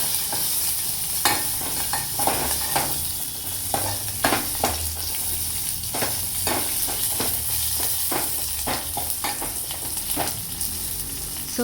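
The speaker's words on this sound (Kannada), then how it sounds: "ಸ್ವಲ್ಪ ಈರುಳ್ಳಿಯನ್ನು ಹಾಕಿ ಚೆನ್ನಾಗಿ ಫ್ರೈ ಮಾಡೋಣ" Crushed garlic, chillies and onion frying in hot oil, with a steady close sizzle broken by repeated scraping stirs of a spatula in the pan for village-style horse gram sambar.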